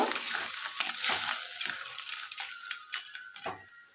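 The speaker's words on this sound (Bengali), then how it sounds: "আমি এবারে কাঁকড়াগুলো এর মধ্যে দিয়ে দেবো দিয়ে ভালো করে নেড়ে নেব" Crabs are stirred into a boiling sour crab curry in a pot, giving a steady bubbling hiss with scattered soft scrapes and clinks of a spoon, close and moderately quiet with no voices.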